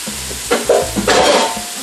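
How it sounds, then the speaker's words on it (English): Raw shrimp for shrimp creole tipped into a hot pan, bursting into a loud, close sizzle with a couple of scraping stirs across under two seconds. "we're going to go ahead and just dump the shrimp right in here"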